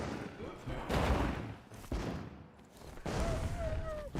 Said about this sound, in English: Oh, I'm cutting down trees with grenades, bro.